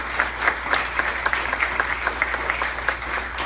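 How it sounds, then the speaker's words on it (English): Audience applause at an evening church concert of praise, steady clapping from a crowd with sharp individual claps standing out, moderately loud and continuous throughout. "Can we give him a round of applause for listening to us tonight?"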